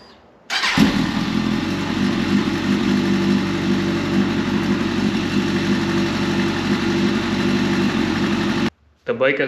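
A Kawasaki ZX-10R motorcycle engine, freshly reassembled after a valve clearance job, starts with a burst and settles into a steady, loud idle during a heat cycle that runs until it cuts off abruptly near the end.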